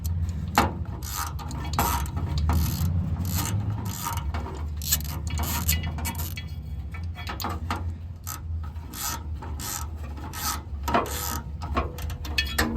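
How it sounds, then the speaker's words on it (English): Ratchet fitted with a 5/8 spark plug socket and extension working a plug loose on a Subaru Sambar, steady close clicking strokes in a repeating rhythm, loud, without speech. "we're gonna be using a 5/8 bit along with an extension and a ratchet"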